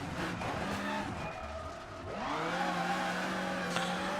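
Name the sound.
rally car sliding on gravel in Richard Burns Rally video game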